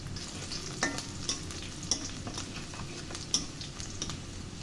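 Cinnamon, cardamom and peppercorns frying with onion in a pan, giving a steady close sizzle broken by a few sharp crackles and pops, with no voices.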